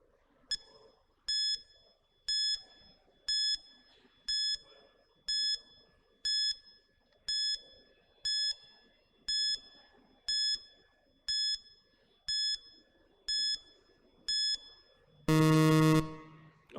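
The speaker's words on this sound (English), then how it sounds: "the timer starts now" A quiz countdown timer ticks with a regular bright electronic chime about once a second, over a quiet murmur, ending in a loud, sustained buzzer blast.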